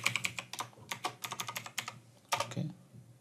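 Fingers type a password on a Windows 10 computer keyboard, a close, quick run of about a dozen key clicks in an uneven rhythm, ending in a heavier keystroke, with no talk.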